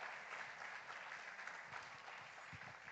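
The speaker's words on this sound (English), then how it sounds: "can we have a thunderous, vibrant, another big round of applause for all these talented drummers over here?" Dense, steady applause from a festival audience honouring a group of drummers at SAROD 2024, a broad wash of clapping filling the whole stretch with no voices on top.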